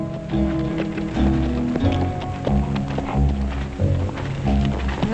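Horse hooves clip-clop in a steady walking rhythm, close and fairly loud, with quiet background noise behind them.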